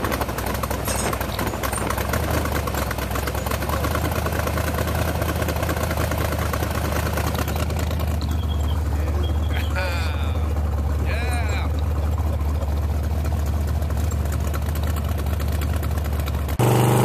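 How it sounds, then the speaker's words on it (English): A car's engine roars steadily as it accelerates up a freeway entrance ramp, a continuous loud drone with road noise throughout, while people talk over it in the cabin. "Here we go, accelerating on the entrance ramp."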